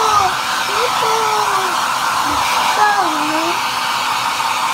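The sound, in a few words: electric blower running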